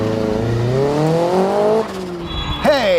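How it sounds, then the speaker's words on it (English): Drag racing car launching with flat foot shifting, its engine wailing and climbing through rising revs with tires squealing, then a brief dip and a fresh sharp surge of revs as the next gear goes in, loud and close. "We'll see about doing some flat foot shifting."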